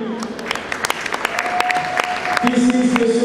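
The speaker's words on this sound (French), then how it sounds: "M. Sonny Cabana, s'il vous plaît, un applaudissement pour lui." Audience at a Congolese EFOR brand fashion show applauds model coach Sonny Cabana, with sharp scattered claps building into steadier clapping and a sustained tone running underneath.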